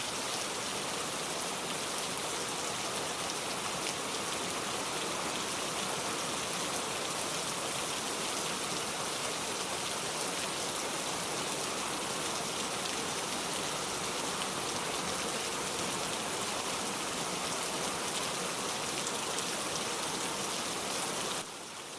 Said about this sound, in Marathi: मित्रांनो पावसाचा जोर वाढतोय